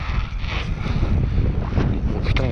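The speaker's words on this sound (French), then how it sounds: "il y a le vent qui m'a pas aidé là" Gusty wind buffets the microphone with a continuous low roar and rough rumbling bursts.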